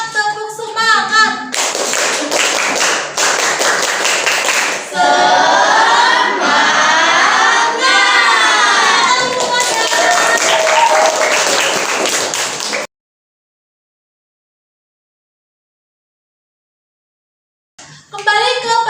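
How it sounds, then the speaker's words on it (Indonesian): A classroom of students does a rhythmic spirit clap, with sharp patterned bursts of clapping mixed with children's chanting voices, loud and close, then a long silence before a final short burst. "Kita tepuk semangat, tepuk semangat."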